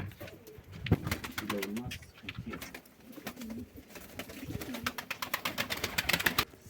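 Van pigeons outside their coop coo repeatedly in soft, rolling calls, close and fairly loud, with a faint murmur of background voices.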